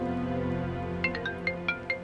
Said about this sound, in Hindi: बारान कॉल कर रहा है।